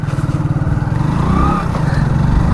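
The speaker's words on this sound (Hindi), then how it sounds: "लॉर्ड स्प्लेंडर, देखते हैं एक किक में स्टार्ट होती है नहीं होती है" A 2020 BS6 Hero Splendor motorcycle, kick-started, idles with a steady, close, even thump.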